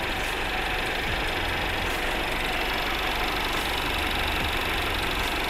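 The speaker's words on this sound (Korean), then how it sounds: "엔진 소리 일정합니다" A Mercedes-Benz C-Class W205 C200 coupe engine idles steadily up close, a constant even hum and rumble with no speech and little change over time.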